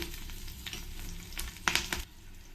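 Mustard seeds, chana dal, cumin and green chilies frying in hot oil with a steady sizzle, a few louder stirring scrapes and pops near the end, close and alone.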